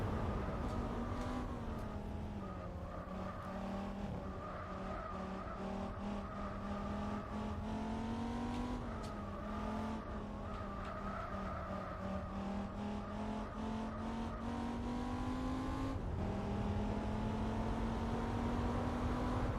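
Race cars in Gran Turismo 4, including a GT car and a Mercedes SLR, with engines droning steadily close by and the pitch rising and falling through gear changes and corners, continuous throughout.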